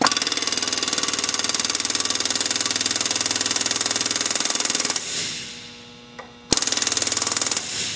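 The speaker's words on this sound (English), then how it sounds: "we're going to go ahead and rivet this thing, and it's going to take it a little while to flatten it" Pneumatic rivet gun hammering a number five rivet on a sheet metal project, a loud rapid continuous chatter for about five seconds, then a short pause and a brief tap before another rapid burst.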